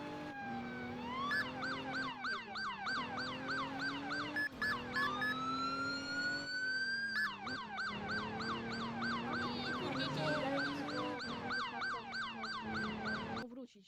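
Ambulance siren in the Roblox ER:LC game, a loud electronic wail that cycles rapidly and continuously, shifting between yelp and wail patterns, with faint voices in the background.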